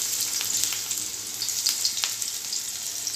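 Onion frying in hot oil in a home kitchen pan, a steady close sizzle with soft crackles throughout and no voices.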